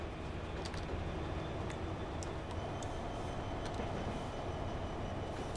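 Trains run in the railway simulation game Transport Fever 2, a constant low rumble of rail traffic with faint clicks and ticks over it, steady throughout without any talking.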